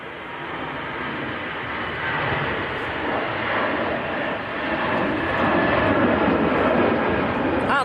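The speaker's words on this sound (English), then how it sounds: "next aircraft on the roll. It's another EasyJet, another Airbus." An EasyJet Airbus airliner takes off in windy conditions at Manchester Airport, its broad engine roar steady and loud throughout, swelling slightly toward the end with wind noise mixed in.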